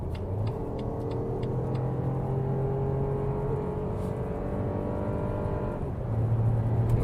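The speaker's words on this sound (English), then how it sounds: "we can do one more acceleration, how that one behaves from 100 kilometers an hour" A BMW SUV accelerating hard from 100 km/h on the road, with a steady engine drone and rising whir under constant road and wind rumble from inside the cabin, heard without talk.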